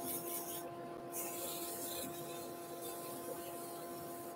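Sandpaper rubs against a spinning wooden bauble on a woodturning lathe, giving a continuous hissing rasp over the steady whine of the motor, moderately faint and constant throughout.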